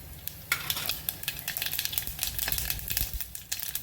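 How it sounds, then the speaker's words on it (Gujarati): Mustard seeds splutter and pop in hot oil in a pan: dense, irregular crackling bursts over a soft sizzle, close and moderately loud, with no voices. "રાઈ તતરી રહે એટલે"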